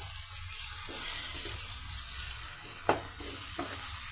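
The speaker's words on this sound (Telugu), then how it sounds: "ఇక మనం 2 ఎగ్స్ అండి ఈ విధంగా పెట్టేసి అందులో యాడ్ చేసేసామండి" Two eggs sizzling and frying in a hot pan of oil for an egg dish, a steady bright crackle throughout with a few sharper spatters near the end, close and fairly loud, with no voices.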